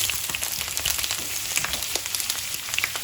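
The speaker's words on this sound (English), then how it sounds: "Once the oil heats up, add the onions" Chopped onions fry in hot vegetable oil in a frying pan over maximum heat, giving a steady, close crackling sizzle with scattered sharp pops and no voices.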